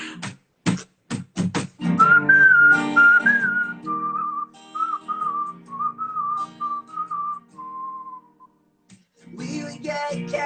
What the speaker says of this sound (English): Here's another whistling one.